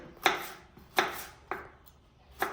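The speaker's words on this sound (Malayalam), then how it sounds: "ചെറുതാക്കിയിട്ട് അരിയണം കുനുകുനാന്ന് അരിയണം" A knife finely chops mango on a board in four sharp, evenly spaced cuts, each with a crisp knock and a brief decay, fairly close and alone.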